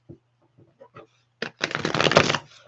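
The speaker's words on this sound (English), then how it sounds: "Let me get one more good shuffle." A deck of tarot cards being shuffled: a few soft separate card taps and flicks, then a dense, loud riffling burst of about a second, close to the listener.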